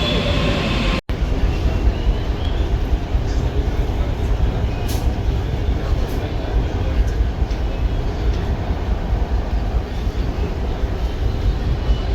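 A Mumbai metro train arriving at a platform, a loud continuous rumble and roar of the approaching train that holds steady throughout, with a few faint higher squeals.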